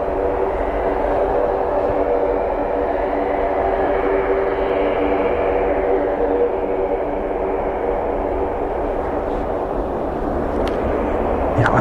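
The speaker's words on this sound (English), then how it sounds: "there's other aircraft powering up" Military aircraft powering up on the apron at RAF Mildenhall, a loud, continuous roar that holds steady throughout and swells slightly in the middle, heard from nearby with no voices over it.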